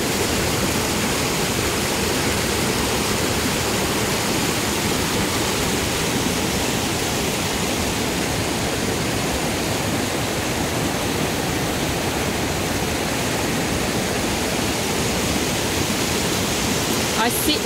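The Barka river pouring over Wilcannia Weir, a loud continuous roar of rushing water filling the whole stretch with no break.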